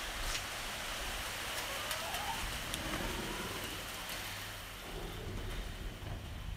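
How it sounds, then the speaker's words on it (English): Heavy rain soaking a backyard during a prolonged downpour, a steady soft hiss of drops on surfaces, fairly faint and continuous with a few brief louder patters. "Backyard is getting a good soaking and the chickens are not happy."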